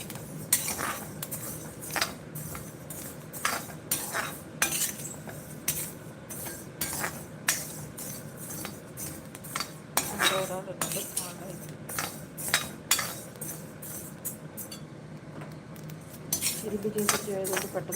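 Ingredients for idli powder are dry-roasted in a pan while being stirred: faint, scattered metallic clinks and scrapes of a spatula against the pan over a low background, with a few louder knocks.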